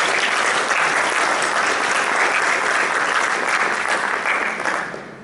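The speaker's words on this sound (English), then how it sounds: "I just want to have another round of applause." An audience at a physicians' coaching seminar breaks into a sustained round of applause, dense and even, many hands clapping together before tapering off at the end.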